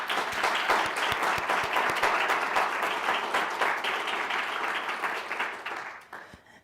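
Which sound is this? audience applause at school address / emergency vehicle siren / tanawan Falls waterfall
audience applause at school address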